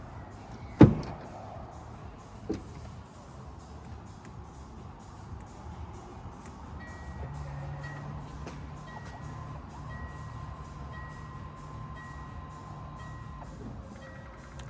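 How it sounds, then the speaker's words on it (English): A Land Rover Defender 110 deployable towbar operates with a clunk early on, then a faint motor hum and a steady series of repeating electronic beeps over quiet background. "There you go, that's the towbar working."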